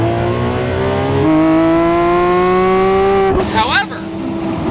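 A straight-piped Lamborghini SVJ revs loudly up close, its engine holding steady harmonic tones that climb in pitch, then break into a sharp rising sweep before settling back into a sustained roar.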